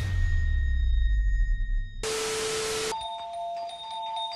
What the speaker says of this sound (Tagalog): kanina pa yung doorbell ng doorbell